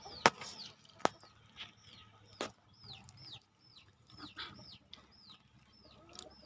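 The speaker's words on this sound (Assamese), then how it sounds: "হাঁহ পোৱালি তো পানীতে খেলে" Young domestic ducklings peeping in repeated short, high chirps, close by over a quiet farmyard background, broken by a few sharp knocking thumps.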